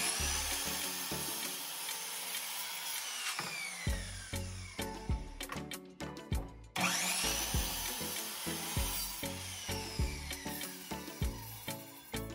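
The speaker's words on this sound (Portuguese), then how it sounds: "Eu vou cortar 4 peças com 25 centímetros" An old wooden board being cut into 25-centimetre pieces with a power saw, giving close, loud rhythmic rasping strokes with a brief pause partway through before the cutting resumes.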